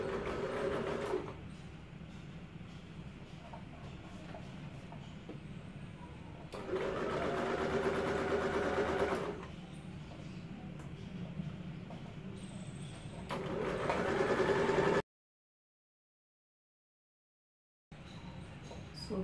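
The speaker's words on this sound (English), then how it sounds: "And now just following the pin, I am going to sew it." A sewing machine stitches around the armhole of a homemade double-sided summer jacket, its quiet, steady mechanical whir running in several stretches with short pauses between them.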